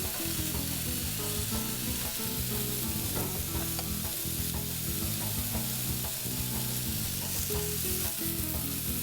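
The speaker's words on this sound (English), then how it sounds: "And the griddle is hot enough. I'm going to add my thinly sliced mahi mahi." Thinly sliced mahi mahi sizzling on a hot griddle for grilled fish tacos, a dense, steady frying hiss with a low rumbling hum underneath, continuous and close throughout with no voices.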